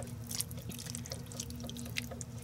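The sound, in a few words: water pouring into a pot of vegetables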